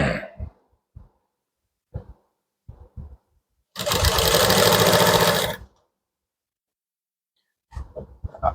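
A sewing machine stitches a blouse neck in one steady, loud mechanical whir lasting nearly two seconds. Scattered short handling clicks and taps come before and after, with no speech.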